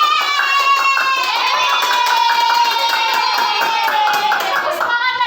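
A class of elementary schoolchildren claps hands together in an even, rapid rhythm while voices sing out over it, a lively, close, continuous clatter that holds steady from start to end.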